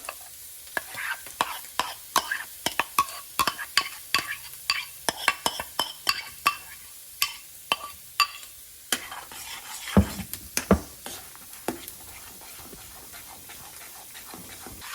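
Spinach gravy is stirred into an onion and tomato gravy in a pan for palak paneer, giving a steady run of close spoon scrapes and taps over a soft sizzle.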